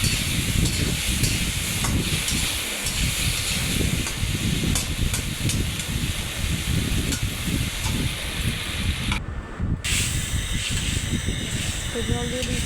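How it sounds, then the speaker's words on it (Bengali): Spice paste frying in oil with a little water added for a pumpkin and egg curry, giving a steady close hiss and sizzle that runs without pause, with faint clinks of stirring. "তো আর একটু জল দিয়ে মশলাটাকে কষাবো।"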